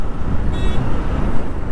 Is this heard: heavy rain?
no